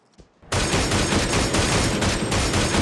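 Sustained burst of automatic gunfire in the Cyber Hunter battle royale game, loud and dense, firing continuously after a brief quiet lead-in.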